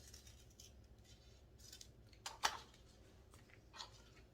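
Scissors snip through therapeutic kinesiology tape, one sharp close cut standing out amid faint handling rustles, with a softer snip following in a quiet room.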